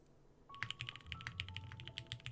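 Typing on a prototype mechanical keyboard under test: a quick, uneven run of close, crisp key clicks lasting about two seconds over a faint background tone, with no speech.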